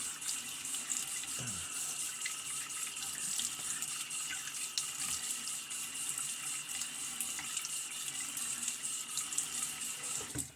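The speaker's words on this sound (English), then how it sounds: "Let me get it rinsed here." Tap water runs steadily into a sink while an Enders Speed Shaver razor is rinsed, a continuous close splashing hiss with faint occasional knocks.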